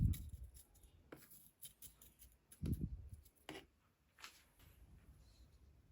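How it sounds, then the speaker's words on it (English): Clean scissors trimming dead and yellowing leaves from a potted fern: a few sharp, quiet snips spaced apart, each a brief crisp cut in an otherwise hushed room. "I'll take my clean scissors and trim away any dead or yellowing leaves to help the plant focus on new growth"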